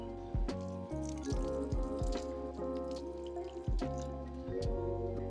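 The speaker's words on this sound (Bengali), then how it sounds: "জল দিয়ে দেব" Water poured onto soil in a newly potted petunia, giving close trickling, splashing and dripping with small squelchy pops, fairly quiet and continuous.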